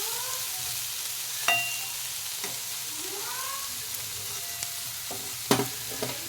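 Eggplant with bitter gourd leaves fries in hot oil, a continuous close sizzle broken by a few sharp clinks and scrapes of a stirring utensil against the pan, with no talking.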